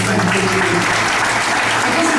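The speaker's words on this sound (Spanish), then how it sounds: "Para iglesia, dale un aplauso al Señor." A church congregation applauding in praise, dense steady clapping filling the room throughout, with a faint low voice or hum beneath.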